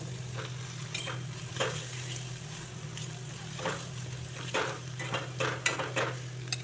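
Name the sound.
mixing and frying bitter gourd seeds with mustard paste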